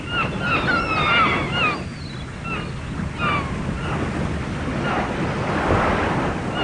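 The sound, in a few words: waves on Kolavipalam beach near the Iringil River estuary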